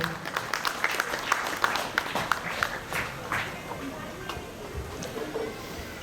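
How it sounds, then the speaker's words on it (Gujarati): An audience at a primary school event in Sardarnagar, Bhavnagar, claps to welcome a guest superintendent, with a steady crackle of many hands over about six seconds and a voice talking over it. "આપ સૌની તાળીઓની નાદની અપેક્ષા સાથે."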